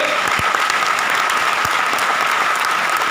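Loud, close crowd clapping from a session audience in Bandra, Mumbai, a dense steady patter of many hands with a few sharper individual claps standing out.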